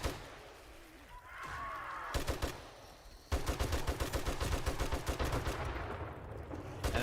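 Rapid bursts of gunfire from shooting zombies in the survival game 7 Days to Die at a desert base, loud and dense after a quieter start, with a thud and scattered shots before sustained fire.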